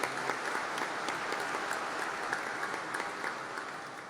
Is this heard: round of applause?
yes